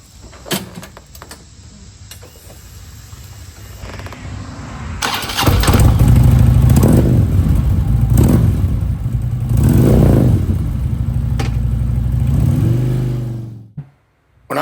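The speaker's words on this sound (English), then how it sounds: "We're going to ride over to Clemmons Motorcycles to pick up my 2010 Softail Deluxe" A 2010 Harley-Davidson Softail Deluxe motorcycle with new handlebars starts and rumbles loudly at close range, engine revving in several swells before cutting off abruptly near the end.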